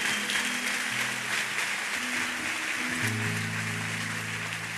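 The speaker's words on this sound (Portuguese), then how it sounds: "Vamos dar um aplauso para as mães na casa." A church congregation applauds for the mothers, a broad, steady wash of clapping that fills the room over sustained organ or keyboard tones.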